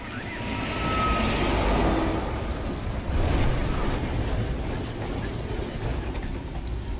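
A train in the video game Beyond: Two Souls gives a loud, steady roar and rumble that swells and holds, broad and continuous like heavy rolling noise, with no voices over it.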